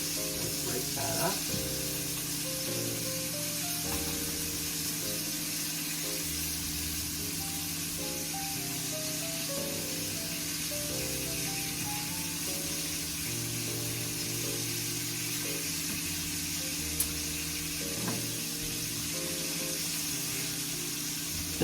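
Food added to a hot frying pan sizzles with a steady hiss that holds throughout. A background hum runs under it, and no voices are heard.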